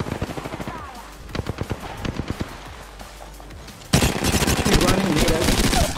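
Rapid automatic gunfire rattles in the Apex Legends video game, bursts of sharp shots at first, then a louder, denser volley of fire that keeps going.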